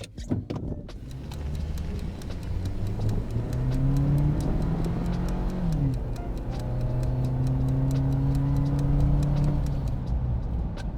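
Stock Suzuki Jimny without a throttle controller accelerating from a standstill, engine note rising steadily through the gears with a brief dip at a shift, loud and continuous from inside the vehicle.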